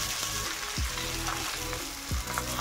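Sabudana aloo thalipeeth, a patted flatbread, fries in oil on a pan over the gas flame, giving a bright, steady sizzle up close with a couple of short low thuds from the utensil, no speech.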